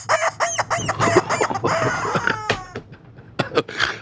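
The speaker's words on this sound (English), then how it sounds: "And the rubber chicken says," Rubber chicken squawking in a rapid series of loud, strained squeals and honks, close up and alone, with a few sharper squeaks near the end.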